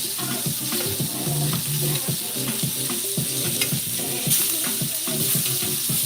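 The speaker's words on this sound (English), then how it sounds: "we're just going to baste the steak as that butter continues to melt" Steak sears in a pan with butter melting around it, giving a dense, steady, close sizzle and crackle with light stirring and basting clinks throughout.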